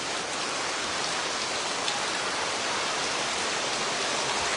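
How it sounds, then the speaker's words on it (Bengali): Heavy rain pours down outside during a drama shoot, a dense, loud, unbroken roar of water that runs steadily throughout. "কি পরিমাণে বৃষ্টি।"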